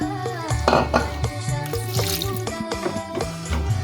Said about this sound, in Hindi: जैसे जैसे हम बैटर को फेंट रहे हैं वैसे ही लचकदार और शाइन वाला बैटर तैयार हो रहा है